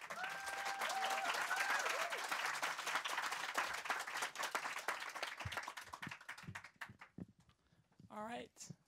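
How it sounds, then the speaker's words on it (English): An audience at an Africa Day youth panel claps loudly and steadily. The applause thins out toward the end as a voice begins talking. "Please give her a round of applause"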